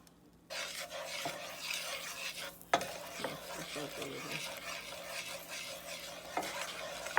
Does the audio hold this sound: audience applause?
no